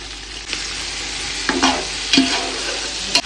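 Coriander, fenugreek and mint leaves frying in a pan, a steady close sizzle broken by a few scraping stirs of a spatula, with no voices.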